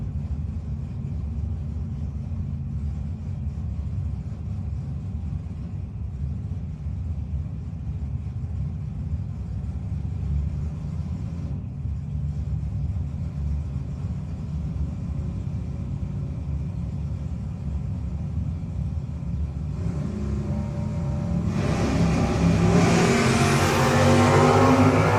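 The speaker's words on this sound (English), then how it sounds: "Steve Dickey, Schwenksville, Pennsylvania, in the first generation Camaro." A first-generation Camaro drag racing at a no-box 660 shootout, a steady distant engine rumble that builds into a loud, rising roar near the end as the car passes, with no voices.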